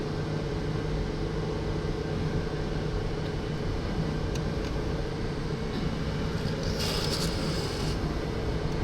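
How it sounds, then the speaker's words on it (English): A train idles at a railway station in Poland, giving off a steady low mechanical hum and rumble with a faint hiss that barely changes, plus a brief higher burst near the end. "I want to get on that train. It's making noise."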